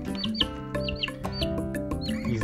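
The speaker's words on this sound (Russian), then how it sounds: "Мне хотелось вас познакомить с такими маленькими цыплятами," Week-old chicks peep repeatedly in quick, high, falling chirps, layered over steady background music.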